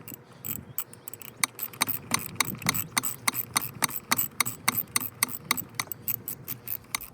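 A socket wrench ratchets bolts on a 2001 Honda B90 outboard lower unit, giving rapid, close, evenly repeated metallic clicks in short bursts throughout.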